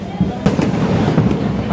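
Firecrackers burst in sharp cracks amid the dense crowd noise of the Lalbagh Raja immersion procession in Mumbai, with a few loud pops standing out over the steady roar and voices nearby.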